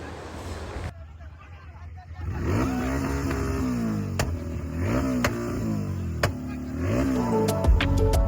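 A Royal Enfield GT 650 motorcycle engine revs hard in repeated rising and falling bursts during an Independence Day group ride burnout, loud and close, over a busy babble of onlookers and other riders.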